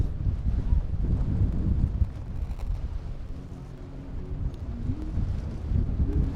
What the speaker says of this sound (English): The wind is blowing very hard